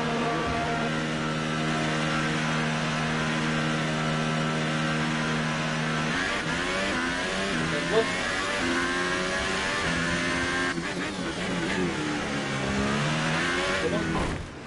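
An F1 2018 race car in the Canadian Grand Prix game pulls away from the pit, its high engine whine climbing through several gear changes, loud and continuous.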